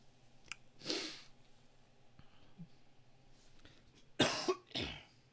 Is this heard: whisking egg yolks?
no